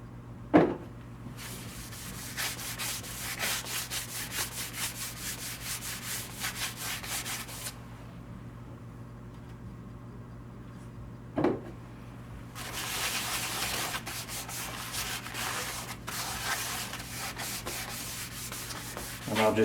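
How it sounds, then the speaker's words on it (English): Sandpaper rubs a spalted magnolia bowl spinning on a wood lathe, giving a long steady rasping hiss that pauses midway and then resumes over the motor's constant hum, with a couple of sharp knocks. "as I sand through the grits it will become"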